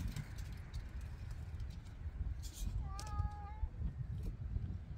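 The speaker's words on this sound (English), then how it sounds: "Yes, that's the kitty." A cat gives a single short, rising-and-falling meow at moderate distance in a home, heard over steady background room noise.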